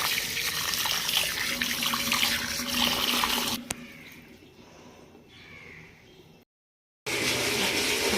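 Water runs strongly from a tap into a bathroom basin being washed, a close splashing rush that drops to a quieter trickle midway, cuts out briefly, then resumes at full flow.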